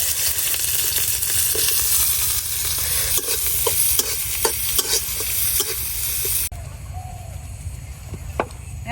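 Onions frying in oil in a pan while being stirred, a steady loud sizzle with repeated scraping and clinking stir strokes, the sizzle dropping somewhat partway through.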